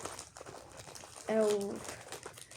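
A plastic surprise packet crinkles close up as it is pulled out and handled, rustling throughout with a louder burst of crackle in the middle while a voice is briefly heard.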